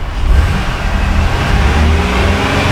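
A vehicle engine revving up to around 2,500 RPM during diagnostic testing, a steady loud mid-range drone holding throughout with no talk.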